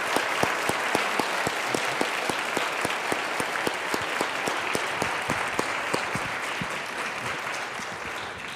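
A large convocation audience claps for an honoree at a Martin Luther King Jr. Day event, dense sustained applause with sharp individual claps standing out, steady throughout and tapering slightly near the end.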